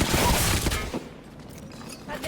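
Rapid gunfire from a firefight in the video game Apex Legends crackles loudly in a dense burst for about a second, then fades to scattered lighter shots and game noise.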